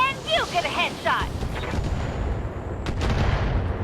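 LRM 20 missile salvo fired in the mech combat game Battletech: a brief voice first, then a heavy rumbling roar of launches and impacts with a sharper burst near the end.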